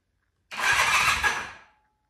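An old Honda CB450T motorcycle with seized controls cranks over once. A single loud, rough burst of about a second rises suddenly out of silence, then fades away.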